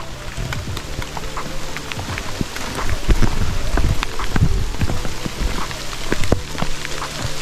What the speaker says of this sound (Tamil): மழை ஆரம்பித்து விட்டது.